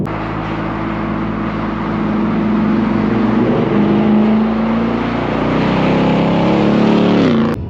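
A Ford Shelby GT350 Mustang's engine drones steadily while driving, a loud, close, continuous rumble that holds a sustained pitch before cutting off at the end.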